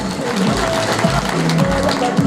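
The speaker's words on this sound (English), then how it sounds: "Ladies and gentlemen, can we give him a round of applause, please?" Applause from a symposium audience rises close and fairly loud, an uneven patter of clapping hands mixed with voices speaking over it.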